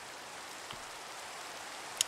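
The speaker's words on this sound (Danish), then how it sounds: "Åh, dumme regnvejr." Steady, soft rain falls in Minecraft, a faint continuous hiss with no other sounds, then a brief click near the end.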